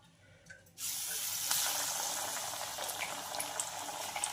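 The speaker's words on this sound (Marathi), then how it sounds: "तेल आपलं छानपैकी असं तापलेलं आहे तर एक एक वडा आपण आता असा अलगत सोडून द्यायचा आहे" Chana dal vadas slid one by one into hot oil, starting a loud, steady bubbling hiss after a brief quiet opening that keeps on with small crackles throughout.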